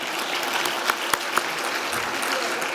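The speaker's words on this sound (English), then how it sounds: "You all clap for her." An audience at a South Florida Muslim organizations coalition event applauds steadily at moderate volume, a dense patter of clapping with a few sharp louder claps standing out.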